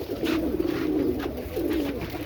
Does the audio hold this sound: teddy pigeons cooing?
yes